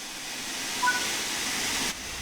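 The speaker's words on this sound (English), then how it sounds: "the cylinder should have been blown clear by the steam jetting out of them, so you can close the cylinder cocks" Steam jets hissing from the open cylinder cocks of a steam locomotive in Train Sim World 5, a steady loud broadband rush that holds evenly, then drops slightly near the end.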